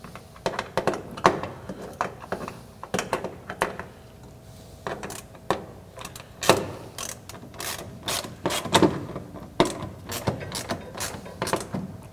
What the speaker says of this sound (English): Put a couple nuts on, tighten them down good